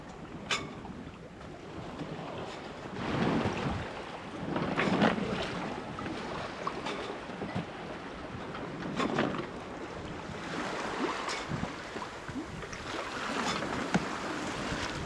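Following seas wash and surge against a sailboat running downwind on the open ocean, a steady rushing of water with periodic swells and gusty wind noise, with no voices.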